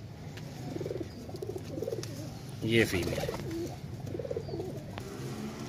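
A Kamagar pigeon coos in low, repeated throaty rolls, close by, while someone talks over it and a brief flutter or handling noise breaks in midway.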